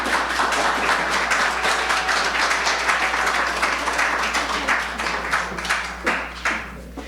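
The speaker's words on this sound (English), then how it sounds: "let's give her a round of applause, please" An audience applauds at the opening of a housing center: sustained, fairly loud clapping from many hands that holds steady, then thins and tapers in the last second or so with a few scattered claps.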